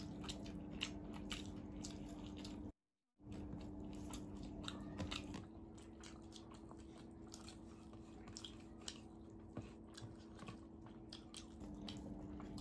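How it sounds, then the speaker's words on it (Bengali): Someone chews a bite of beguni, a fried eggplant fritter, with soft crunchy and squishy mouth sounds close by and a brief silent gap partway through. "বেগুনিটা শুধু এক কামড় খেয়ে যাবো"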